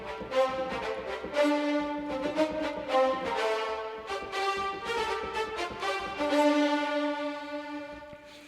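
Orchestral string adventure patches from the Soaring Adventure Strings library, blending short and long articulations into a rhythmic, pulsing ensemble passage that plays moderately loud and steady throughout.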